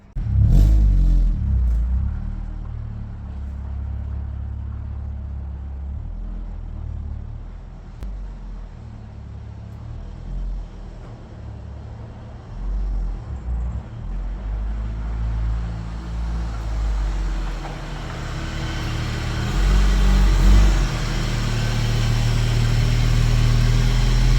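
A 1997 Acura Integra GSR rolls into a garage, its engine rumbling low and steady at close range throughout, with a brief rise in revs toward the end.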